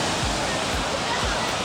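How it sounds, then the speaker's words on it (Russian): Sea surf on a Turkish beach, a loud, continuous wash of breaking waves with slow low swells rolling in every half second or so. "Любовь к морю моя бесконечна. Этот шум просто меня расслабляет все время, успокаивает и заряжает."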